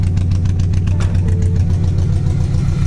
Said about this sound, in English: All right, she started back up. Idling at about 13 AFR ratio.